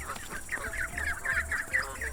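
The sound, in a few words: birds pecking and squawking, story sound effect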